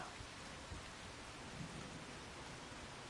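Steady, dense rain pouring continuously in Farming Simulator 25, with low rumbles of thunder rolling underneath throughout.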